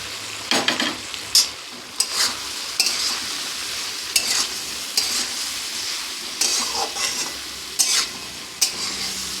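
Broccoli that was fried earlier is stir-fried in a pan with chili sauce, with steady sizzling under repeated scraping stirs of a utensil against the pan, all close up and with no talking.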